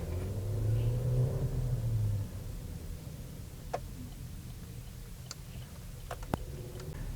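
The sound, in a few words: car driving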